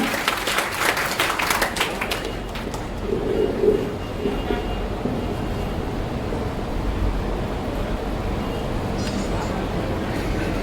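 A large crowd applauds at an outdoor BJP election rally, clapping heaviest at the start before settling into a steady roar of crowd noise with voices and background din throughout.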